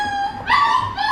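Alapaha puppy and adult dogs whimper and yip close up, a continuous high whining cry that rises in intensity midway and stays steady for about a second.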